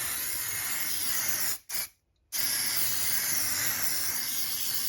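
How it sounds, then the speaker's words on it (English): An aerosol can sprays paint onto a door in a steady loud hiss that cuts out briefly after about one and a half seconds, then resumes and carries on to the end. "I thought I can spray paint this door"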